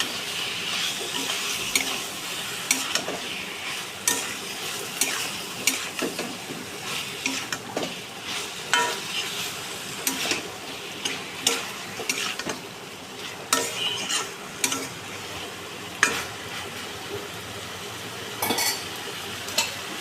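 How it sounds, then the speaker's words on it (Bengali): Prawns, soybean and boiled potatoes are stir-fried with spices in a pan, with a steady sizzle under frequent close scraping and clinking of a spatula against the metal pan. "আর চিংড়ি মাছটাও দিয়ে দেবো এবার সব একসাথে মশলার সাথে ভালো করে কষাবো"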